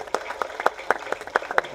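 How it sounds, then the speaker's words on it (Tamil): Audience hands clap at the Kanni Maadam audio launch event, a quick, evenly spaced run of sharp claps, about four per second, close and fairly loud over a low room murmur. "கைத்தட்டலாம்."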